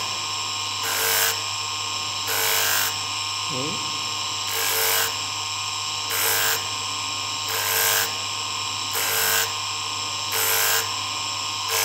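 Sandpaper is worked over a brass ring to remove coarse 80-grit scratches, making regular rhythmic rasping bursts about once a second over a steady hum, with a brief spoken word.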